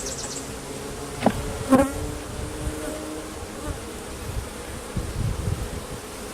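Honey bees hum continuously around an open hive during an inspection beside brood frames, their close, busy drone steady, with a couple of brief knocks from handling the frames.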